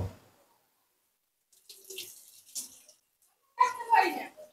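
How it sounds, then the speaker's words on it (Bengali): Mangoes rinsed under a running kitchen tap, water splashing in short uneven bursts with a louder gush near the end, close and moderately loud, with quiet gaps between. "আমগুলো ধুয়ে নি।"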